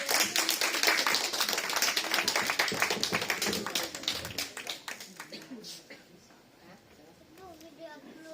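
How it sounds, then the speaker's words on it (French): A church congregation applauds children loudly during a Sunday Easter service, dense rapid clapping that fades out after several seconds, leaving quieter voices behind. "On peut applaudir les enfants."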